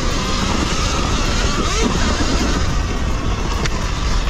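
A Sur-Ron Ultra Bee 12.5 kW electric motorbike ridden at full throttle off-road gives a loud, continuous rush of motor whine blended with heavy wind noise, close and unbroken.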